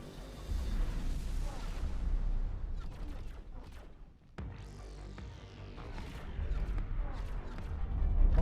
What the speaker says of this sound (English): that looks like another chain of explosions running up the spine